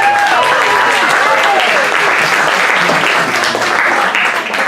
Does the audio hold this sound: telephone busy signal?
no